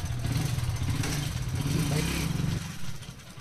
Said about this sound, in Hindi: करते अपनी बाइक को स्टार्ट, चलते हैं स्टेशन की तरफ